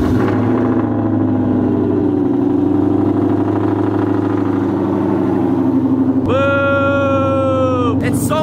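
A Ford Mustang with a Coyote V8 and VMP supercharger runs loud and steady after a cold start, a deep droning rumble throughout, with a rising whine near the end.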